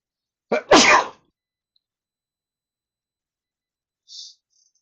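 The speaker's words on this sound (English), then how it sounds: "Excuse me, I had to sneeze" A single sharp sneeze, loud and close, followed by silence and a faint short hiss near the end.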